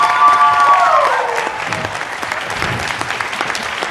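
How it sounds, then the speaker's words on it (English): An audience at a film premiere applauds the cast and crew, a dense burst of clapping that starts strong and tapers slightly over a few seconds, with a brief high tone fading out at the start. "Let's give them a round of applause."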